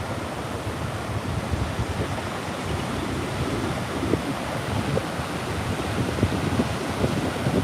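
Ocean surf rolls onto a beach in a steady, broad wash of crashing water with wind buffeting the microphone, continuous and moderately loud with no voices.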